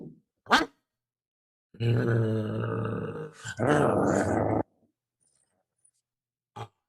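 A human voice imitates a fox-like creature growling, giving two long, low, throaty snarls in a row, loud and close, with brief short sounds before and after.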